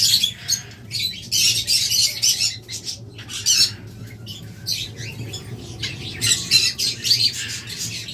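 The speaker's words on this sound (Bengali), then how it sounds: "এরপর এখানে রয়েছে চমৎকার অপালাইন লাভবার্ড।" Opaline lovebirds squawk in repeated shrill bursts, loud and close, with several birds calling over one another in a busy, continuous chatter.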